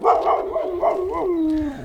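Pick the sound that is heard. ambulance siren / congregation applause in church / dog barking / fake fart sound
dog barking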